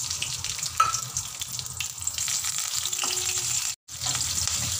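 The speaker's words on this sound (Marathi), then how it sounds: "आणि ही मिरची फ्राय करून घ्यायची" Slit green chillies frying in plenty of hot oil in a kadai, a loud steady crackling sizzle with a few sharper pops and a brief dropout near the end.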